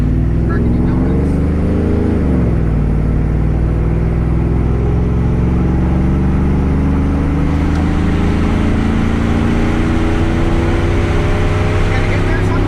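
A 2004 Chevrolet Silverado with a 5.3L V8, long-tube headers and a Borla XR-1 muffler rumbles loud and close from inside the cab while driving, its low exhaust drone rising and settling as it revs, with occasional talk beneath.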